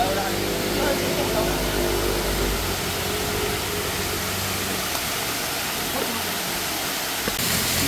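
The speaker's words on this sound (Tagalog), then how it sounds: "A falls with no name. But it's a hidden falls." A hidden, unnamed waterfall in Infanta, Quezon roars with a dense, steady rush of falling water, loud and close, while a low rumble sits beneath it during the first seconds.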